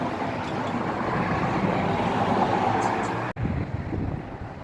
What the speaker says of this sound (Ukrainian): тут з моря вітер